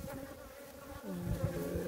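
Honey bees buzz steadily at a hive in early autumn, a dense, continuous drone that swells slightly louder toward the end, with no voices.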